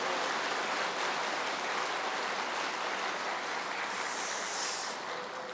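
A church congregation at a winter camp service breaks into applause, a dense, steady wash of many hands clapping that fills the room and holds at full strength. It eases only slightly near the end, with no one talking over it.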